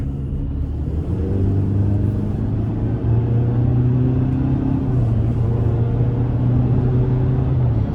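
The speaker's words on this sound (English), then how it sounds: "And I just find the turbo to be more enjoyable when accelerating." A 2024 Chevrolet Silverado 1500 Work Truck with the 2.7-litre turbocharged four-cylinder pulls hard under acceleration, a loud, steady engine drone rising and shifting in pitch through the gears, heard from inside the cab with road rumble and no talking.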